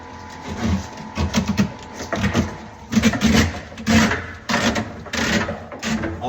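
Smurf flexible conduit is pushed through a hole in drywall in bursts of scraping and rubbing, each lasting under a second with short pauses between, close and fairly loud.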